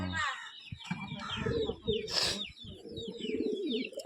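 A pigeon being handled by its keeper coos in low murmurs while small birds chirp brightly around it, with a sharp rustle or flap midway and handling noises close by.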